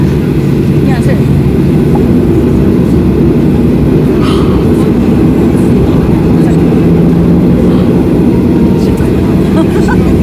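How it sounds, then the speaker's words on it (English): Airplane cabin noise heard from inside a plane flying to Busan: a loud, constant low engine and air roar that fills the whole stretch without change. "We're on a plane."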